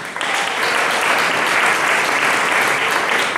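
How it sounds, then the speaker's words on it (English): Audience applause at a ribbon cutting for a councilwoman: a continuous, dense wash of many hands clapping at steady loudness throughout, with no distinct voices rising above it. "Give her a round of applause."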